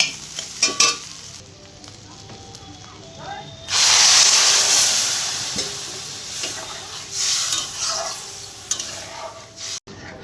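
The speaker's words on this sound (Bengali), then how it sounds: "সব আলুগুলো আমি ভেঙে নিলাম ভাজা ভাজা হয়ে গেছে" Broken-up potatoes sizzle and hiss in a hot pan, with occasional scraping and stirring and a louder surge of frying partway through.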